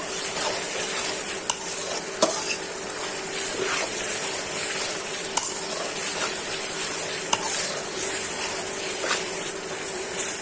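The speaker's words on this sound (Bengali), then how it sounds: "কোয়া করা রসুনগুলো দিয়ে কষাইতেছি মশলাটা।" Spice paste with peeled garlic cloves frying in a pan for a rui fish and bean curry, a steady broadband sizzle under repeated scraping stirs and occasional sharp clinks of a utensil against the pot, no voices.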